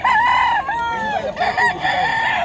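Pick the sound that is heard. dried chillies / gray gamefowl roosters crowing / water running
gray gamefowl roosters crowing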